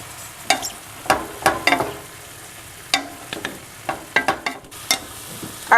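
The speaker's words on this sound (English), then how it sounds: "I'm going to stir this together and cook this for another, 2 to 3 minutes" Ground beef, onion and garlic fry in a pan for a low-carb meat sauce, a soft steady sizzle broken by repeated scraping clacks of a spoon stirring, close and unhurried.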